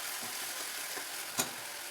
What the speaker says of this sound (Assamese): এইখিনি মই ভালকৈ ভাজি ল'ম কেঁচা গন্ধটো নোযোৱালৈকে।